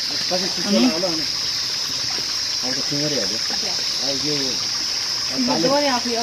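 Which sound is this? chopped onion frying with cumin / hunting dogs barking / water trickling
water trickling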